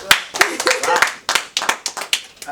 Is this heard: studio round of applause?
yes